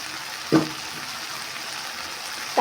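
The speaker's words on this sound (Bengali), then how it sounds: "আমার রসুন আর পেঁয়াজ আগে আমি ভালো করে ভেজে নিয়েছি লাল লাল করে এবার টমেটো অ্যাড করে দিয়েছি" Garlic, onion and tomato frying in a pan with a soft, steady sizzle close by, punctuated by two brief louder clatters of a utensil or ingredients hitting the pan.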